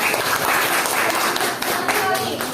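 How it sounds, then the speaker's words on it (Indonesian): An audience in a classroom or training session clapping their hands, a dense, continuous burst of applause filling the space at close range. "Tepuk tangan dulu."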